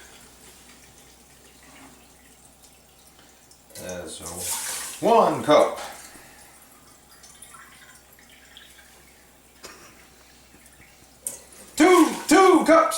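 Filtered water runs from a kitchen sink tap into a measuring cup in short splashing streams, with someone talking briefly between fills.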